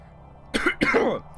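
A person coughs twice in quick succession, harsh and close, the second cough rougher and trailing into a throat-clearing rasp over a quiet background hum.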